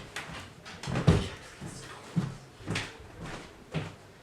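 A door opened during indoor filming, several soft knocks and thuds of the door and handle at irregular intervals, close and fairly quiet against a faint room hiss.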